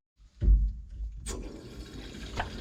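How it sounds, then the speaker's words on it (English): Water rushes into a domestic plumbing system being topped up and pressurised, starting with a sudden loud gush and then settling into a steady hissing flow, with a faint knock near the end and no talking. "I'll go and put a drop more water in it"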